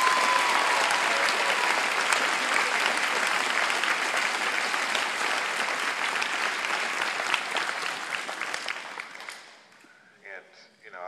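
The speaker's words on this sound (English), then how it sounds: "So can you give these ladies and gentlemen a round of applause?" A school band audience applauding its seniors at a band concert, sustained loud clapping from a crowd that gradually tapers off, followed by a brief start of a voice as it ends.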